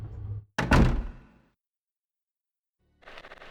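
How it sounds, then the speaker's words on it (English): Doors open in the video game Resident Evil 2 with a heavy thud and creaking swing, followed by silence and then a faint mechanical rattle starting up near the end. "we are going to go through these doors"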